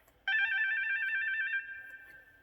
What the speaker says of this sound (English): That's the sound that tells you to turn the page.